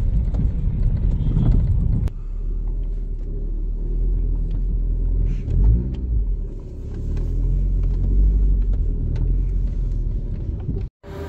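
A Honda Civic with worn suspension rumbles along a road from inside the car. Steady low road and engine noise runs throughout, broken by a few knocks and thumps from the suspension. One sharp jolt comes near the end.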